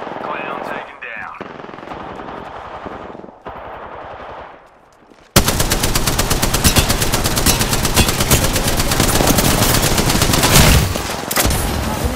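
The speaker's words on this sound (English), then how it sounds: "They're shooting at me." Gunfire in the battle game Apex Legends: a sparse muffled stretch, then sudden loud sustained automatic fire in rapid bursts at close range.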